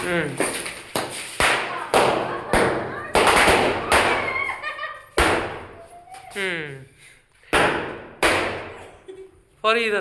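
Firecrackers bang one after another at a family Diwali celebration, about ten sharp close cracks spaced irregularly, with people talking and laughing between the bursts.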